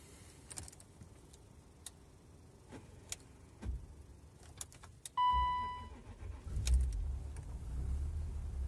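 A BMW E34 with an M50 engine cranks and fires up after a few faint clicks and key sounds, then settles into a steady idle rumble.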